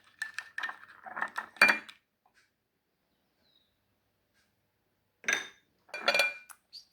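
Spoon clinks and scrapes in a dish as chopped coriander and parsley are stirred together with spices for a vegetable tagine, coming in two short bursts of clattering separated by a quiet pause.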